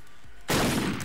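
A single loud burst of gunfire erupts abruptly in an online shooter game after a moment of quiet background hum, lingering as a dense noisy blast.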